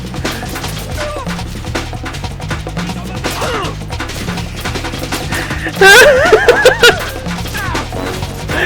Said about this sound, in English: while there's gunfire going on